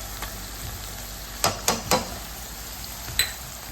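Minced garlic and ground beef with softened onion fry in a pan, a steady close sizzle punctuated by four or five sharp scrapes and taps of a utensil stirring against the pan.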